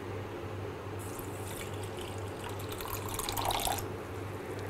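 Tap water runs and pours over gelatin, a soft steady splashing stream that swells for a few seconds in the middle, under a low background hum.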